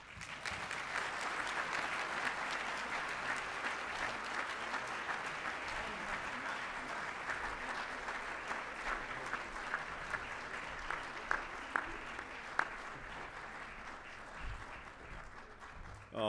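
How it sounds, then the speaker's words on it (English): Steady, sustained audience applause at a Taste in Potomac watch party for an adoptive family, a dense wash of clapping holding evenly throughout with a few sharper individual claps standing out. "let's give the Williams-Greer family and all the other adoptive families a healthy round of applause"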